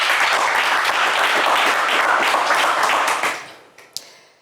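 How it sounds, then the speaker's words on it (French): Studio audience applause on a French radio game show, a dense burst of clapping that fades out after about three seconds, followed by a couple of isolated claps. "On vous applaudit."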